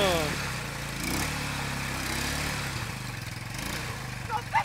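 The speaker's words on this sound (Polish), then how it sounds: "Trzymaj gaz cały czas, żeby się kręciły koła" A 150cc quad's engine revs and holds steady throttle, a continuous mid-pitched drone with a rising whine toward the end, close by, while someone shouts instructions over it.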